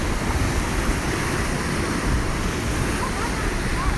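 Large ocean waves at Daytona Beach Pier give a dense, continuous roar of surf mixed with wind buffeting the microphone, loud and close throughout.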